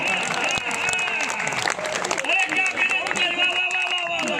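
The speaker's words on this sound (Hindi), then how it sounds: "तालियां जोरदार बजाइए आप" Audience applause at a humorous poetry gathering in Ayodhya, dense clapping that runs steadily throughout and is overlapped by voices and cheering from the crowd.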